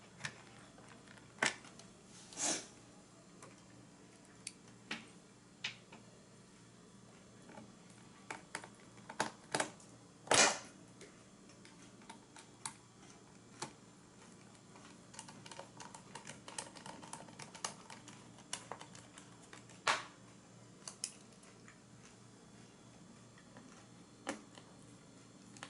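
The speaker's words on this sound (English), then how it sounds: "So I got 2 more screws to put in here." Small screws being driven into an Acer laptop during an I/O board replacement: scattered faint clicks and ticks from the screwdriver, close up in a quiet room, with no voices.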